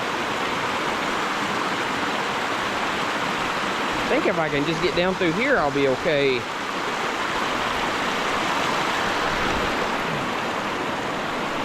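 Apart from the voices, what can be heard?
stream at a hiking trail water crossing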